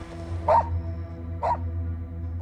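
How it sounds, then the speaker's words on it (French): Two sharp dog barks, about a second apart, aimed at a hiker crossing rural Martinique, heard moderately close over a steady low hum with no talk. "on voit juste un des chiens qui m'aboie dessus"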